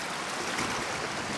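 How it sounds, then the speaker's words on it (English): River water rushes fast through a fish ladder where fresh water meets the tidal sea, a loud, dense, continuous wash of flow filling the scene with no voices. "the river's a little bit full and flowing a lot more freely today"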